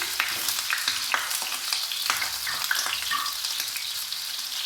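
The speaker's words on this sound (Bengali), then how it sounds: "তেলটা গরম হয়ে গেছে, এবার গরম তেলের মধ্যে আমি পটল দিয়ে দিচ্ছি।" Pointed gourd frying in hot mustard oil in a kadai, a steady close sizzle with scattered spatters and the clack of stirring, with no voices.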